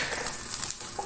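Frozen garlic and ginger paste fries in hot oil in a pan, a close, even sizzle with faint crackles running steadily throughout.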